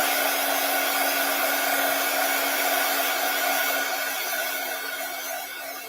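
Hair dryer blowing steadily and loudly while drying a handmade Christmas card, an even whooshing hum with a faint tonal whine that tapers slightly toward the end, no voices.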